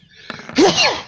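A single sharp sneeze, a short intake followed by a loud burst, close to the listener.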